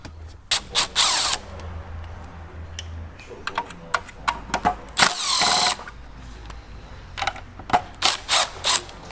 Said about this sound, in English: Taking screws out with a gun's okay, but you don't really want to put them back in with this.